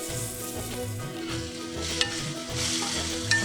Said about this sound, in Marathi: आणि तो लसूण ना चांगला असा छान परतून घेऊया.